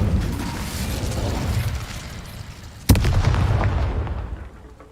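An Incendio fire spell cast in Hogwarts Legacy sounds as one sudden sharp burst with a whooshing crackle, rising out of a rumbling background and slowly fading over the next two seconds.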